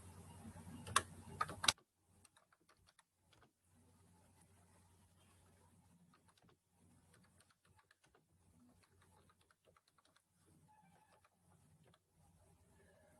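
Typing on a computer keyboard while entering HTML paragraph text, a few louder clustered key taps at the start, then faint, sparse clicks against a quiet background.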